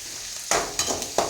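Onions sautéing in a pan for a fish curry, giving a steady sizzle with a few sharper bursts of stirring and scraping, close and moderately loud.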